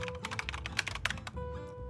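Rapid clattering keystrokes on a computer keyboard in irregular bursts, with a steady low hum underneath and a brief pause before the typing resumes.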